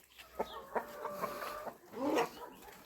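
Several chickens cluck nearby in short, repeated bursts, with a louder squawk toward the end.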